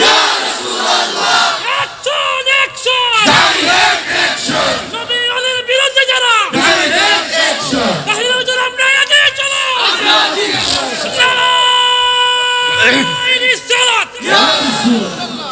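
A large crowd at a Sunni religious gathering loudly chants the takbir slogan in unison, answering a lead voice in a call-and-response pattern, with the massed shouting filling the clip throughout.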